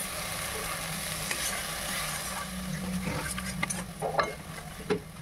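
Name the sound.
poppy seed paste being fried and stirred in pan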